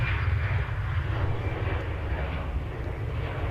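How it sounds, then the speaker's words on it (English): A loud, steady roar of an airplane passing overhead at Manchester Airport dominates, a broad rumbling engine noise holding constant throughout. "Let's get this aircraft going by so you can hear me."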